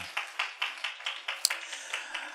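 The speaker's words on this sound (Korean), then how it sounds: "우리 하나님께 박수로 영광을 드리겠습니다" A church congregation claps in steady, even rhythm, roughly five claps per second, moderately distant and fairly quiet, with a single sharper knock midway.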